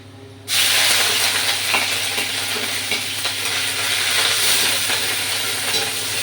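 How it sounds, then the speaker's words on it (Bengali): Onion paste hits hot oil with a sudden sizzle that jumps in loudness and then holds as a dense, even frying hiss with faint crackles, close up and with no talk. "এর মধ্যে আমি পেঁয়াজের বাটাটা এর মধ্যে দিয়ে দিলাম"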